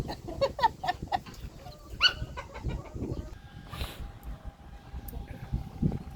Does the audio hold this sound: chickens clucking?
yes